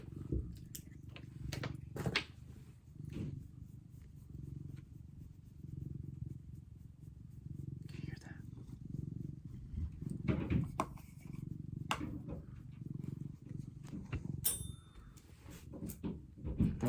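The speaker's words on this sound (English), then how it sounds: "you can probably hear his purring" A cat purrs steadily and softly up close, its low rhythmic rumble continuing throughout with a few faint clicks and rustles.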